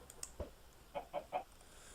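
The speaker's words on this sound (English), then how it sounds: "There is a chicken in grandfather's house" A Minecraft chicken inside a grandfather's house gives a few soft clucks, one early and then three quick ones in a row, faint and close.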